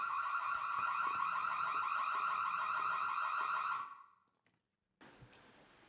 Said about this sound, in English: What set off the alarm?